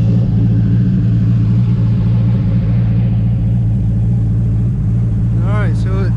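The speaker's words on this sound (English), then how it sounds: "So we're going to start this thing up and let it warm up" A cold 1984 Chevrolet C10 pickup's engine idles with a steady, loud low rumble throughout, and a brief voice comes in near the end.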